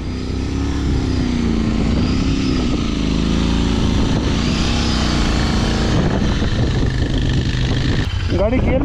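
Royal Enfield Interceptor 650 motorcycle engine running steadily at a loud, close idle, with a constant rumble and a few mechanical clicks near the end, under voices talking.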